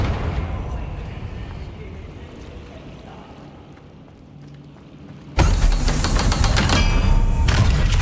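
A Confringo fire spell blasts in Hogwarts Legacy, a sudden loud burst erupting after a quieter stretch and holding as a dense roaring crackle to the end.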